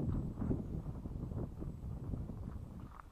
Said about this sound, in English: little bit windy.